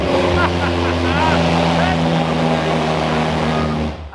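The rebuilt, crash-repaired Ferrari 812 Superfast runs briefly, a loud, steady engine drone with a rich tone that holds for about four seconds before it cuts off.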